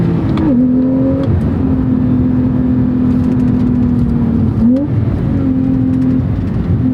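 A Porsche engine with rev matching engaged blips up on each downshift, then holds a loud, steady drone. Two clear rev flares sit in the middle of constant close-up engine and road noise.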